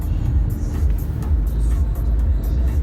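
A Peugeot 2008 compact SUV drives along a road, heard from inside as a loud, steady low engine and road rumble with no talking.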